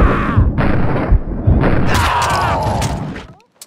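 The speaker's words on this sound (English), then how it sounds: "Someone must have heard the gunfire." Gunfire in the video game Max Payne 2: loud repeated booming shots with heavy low thumps and ringing tails, followed by a brief drop to near silence.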